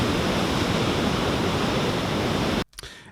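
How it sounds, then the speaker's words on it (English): Beach ambience of ocean waves breaking in a steady, dense roar of broadband wash that fills the recording, then cuts off abruptly near the end, leaving a brief quieter sound. "so quite a bit of ocean sound there."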